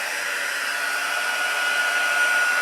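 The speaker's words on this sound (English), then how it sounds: "get my heat tool" A heat embossing tool blows hot air nearby for a Christmas card, a steady whooshing hum with a faint high whine and no talking.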